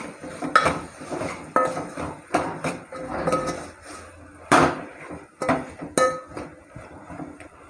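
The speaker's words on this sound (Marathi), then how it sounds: "व्यवस्थित परतून परतून घ्यायचं" A spoon scrapes and clanks against a pan while sambar ingredients are sautéed and stirred; loud, close, irregular metallic knocks and scrapes come in bursts with no talking.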